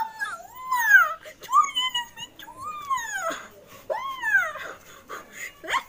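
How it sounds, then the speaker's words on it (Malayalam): A dog whimpers and whines in a string of rising, drawn-out cries close at hand, each plaintive yelp sliding upward before trailing off, repeated several times. "എന്തെടാ പട്ടി കരക്കണ്ട"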